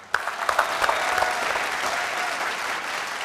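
A crowd claps loudly and steadily in a celebrity game show, with a few sharp claps at the start blending into a continuous wash of applause lasting about three seconds.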